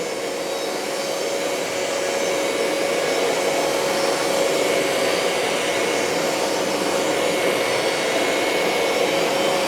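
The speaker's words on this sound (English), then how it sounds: "now we're just going to suck the rest of that up" A BISSELL ProHeat 2X Revolution Turbo carpet cleaner suctions juice out of carpet, giving a loud, steady motor whine and rushing air roar that holds constant for the whole stretch, close up and with no talk.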